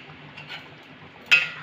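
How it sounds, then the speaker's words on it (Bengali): A lid lifted off a pot of simmering chicken, a single sharp metallic clink near the end after soft, low kitchen clatter. "এবারে ঢাকাটা খুলে দেখে নেব"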